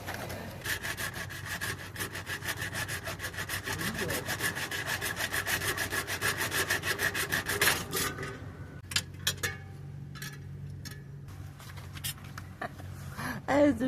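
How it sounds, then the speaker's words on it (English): A hacksaw cuts in quick, even back-and-forth strokes for about eight seconds during brake repair work. After that come scattered clicks and knocks from handling the work, all close up. "I do love my hacksaw."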